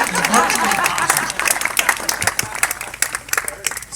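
Applause at a family reunion gathering, a short burst of clapping from a small group that starts fairly full and breaks into scattered, uneven claps as it tapers off.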